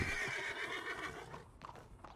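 Horse in Red Dead Redemption 2 whinnying loudly and close for most of the moment, a long shrill neigh, followed by a few hoof clops and faint game sounds as it fades.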